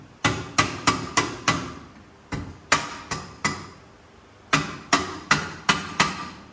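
A small mallet strikes the ball joint on the front suspension of an Audi A6 C5 V6 TDI quattro: sharp metallic taps in quick bursts of four to six blows with short pauses between.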